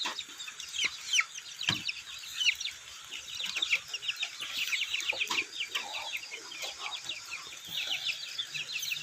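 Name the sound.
chickens clucking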